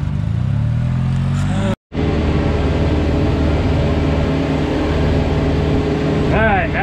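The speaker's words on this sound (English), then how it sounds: "Let's go drive the John Deere tractor now." A rented John Deere tractor's engine drones loudly and steadily with a low harmonic rumble, cutting out briefly before resuming, while faint rising tones appear near the end.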